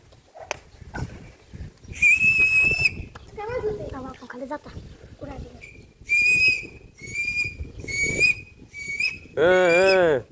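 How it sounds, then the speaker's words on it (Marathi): A whistle blown several times among buffaloes, loud shrill blasts of varying length, some with a warbling trill, separated by people talking and animal noises. "शिट्टी आणली, शिट्टी वाजवायची का"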